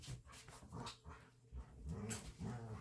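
Two pet dogs playing together indoors, one of them named Kai: close whimpers, yips and panting in short bursts, fairly faint and with no one talking.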